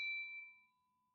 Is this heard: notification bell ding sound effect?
yes